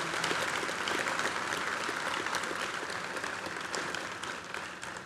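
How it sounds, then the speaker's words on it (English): Graduates applauding at a high school graduation ceremony, a broad continuous roar of many hands clapping in a large hall, heard from a distance and holding steady before easing slightly at the end. "Graduates, could you give a round of applause to everybody here that's here to support you and your families?"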